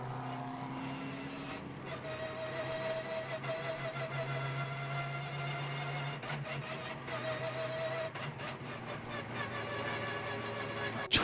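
High steady whine of a racing car transmission at the Japan Cup 2024 race at Okayama, a sustained tonal drone with shifting pitch and engine roar, moderately loud and continuous.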